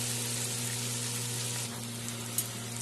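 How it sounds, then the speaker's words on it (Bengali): Bitter gourd (karela) slices frying in hot oil, a soft steady sizzle with a faint hum underneath and a couple of small clinks near the end. "এখন দিয়ে তিতা কলাটা দিয়ে দিচ্ছি। তিতা কলাটা ভাজা হবে"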